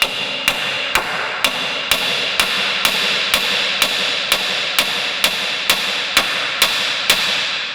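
Steady hammer blows on metal while installing control arms on a 2005-2009 Ford Mustang, about a dozen sharp strikes in an even rhythm, loud and close against a faint background hum.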